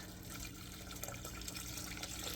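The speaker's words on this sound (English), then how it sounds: "Alright, so I need to add some water." Water running from a tap into a canning pot holding jars of pickled okra, a steady, close splashing fill with no one talking.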